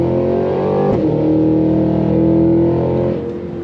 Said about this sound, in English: let's start off and go on throttle, shall we? On throttle, here we go.